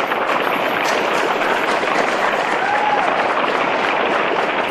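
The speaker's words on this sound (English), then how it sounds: "Ladies and gentlemen, a round of applause for Miss Delta." Steady applause mixed with crowd noise fills a pageant hall at a Miss Nigeria contest for several seconds, loud and unbroken, with no talk over it.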